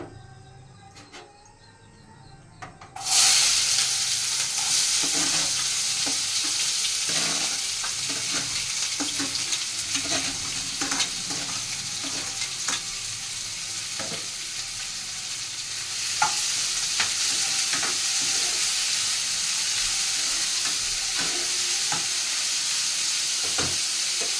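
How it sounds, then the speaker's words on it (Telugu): Onions frying in hot oil for chicken curry: after a few quiet seconds a loud, close sizzle bursts in and continues steadily, punctuated by light stirring clicks and scrapes, with no talk. "ఉల్లిపాయలు అయితే బాగా వేగినాయి"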